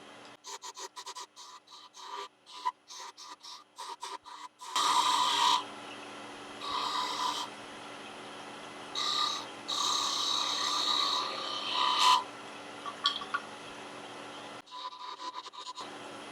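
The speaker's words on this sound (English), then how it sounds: "I'm just going to switch over to a little 1/4 inch spindle gouge." A quarter-inch spindle gouge detail-cutting a small wooden Christmas tree decoration on a lathe, heard as bursts of raspy, scraping cuts of varying length separated by quieter gaps, fairly close and without talk.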